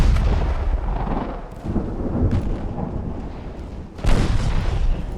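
A warship fires a bow torpedo in Ultimate Admiral: Dreadnoughts, heard as deep booming blasts, with a rumbling discharge at the start and a sharp, loud boom near the end over constant low naval noise.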